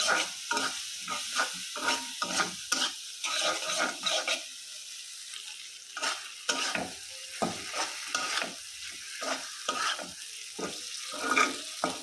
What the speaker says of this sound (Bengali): অল্প একটু পানি দিয়ে ভালোভাবে মশলাটা কষায় নেব